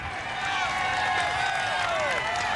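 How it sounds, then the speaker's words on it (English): A massive roadside crowd on a wide boulevard near Mulhouse cheers and shouts for rider Michael Rasmussen during the 2005 Tour de France, a dense, continuous roar with high whoops rising and falling throughout. "listen to the crowd shouting him on every inch of the way"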